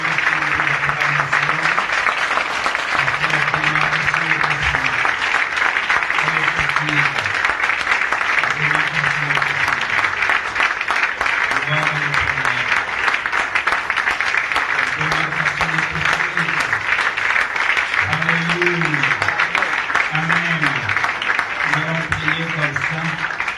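Church congregation at a combined Sunday service in Douala, Cameroon, acclaiming loudly with sustained cheering and applause, a dense continuous wall of crowd noise over a rhythmic, repeating low musical pattern.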